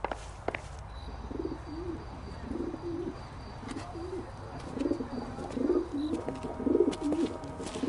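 A carrier pigeon coos repeatedly in a 1940s detective video game, its soft rhythmic calls close by over low ambient room noise, with faint footsteps or clicks scattered through.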